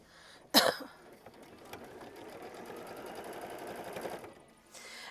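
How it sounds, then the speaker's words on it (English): A sewing machine runs a short burst of machine stitching to tack down fabric on a quilt block, a close, rapid, even whirring clatter lasting a few seconds after a brief rustle, then stopping. "We're going to go ahead and sew machine stitch step 9, which is going to tack that down."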